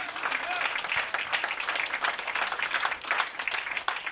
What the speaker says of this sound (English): Applaud for that.